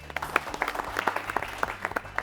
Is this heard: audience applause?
yes